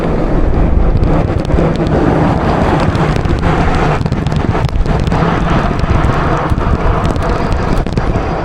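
Loud, steady wind buffets the microphone with a constant low roar and gusty rumble while cycling into a strong headwind on a rough road in Sumy region, Ukraine.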